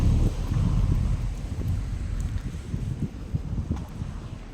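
Strong wind gusts outdoors blow through trees and sparse leaves in cold weather, a steady low rumble with buffeting on the microphone and scattered light rustles.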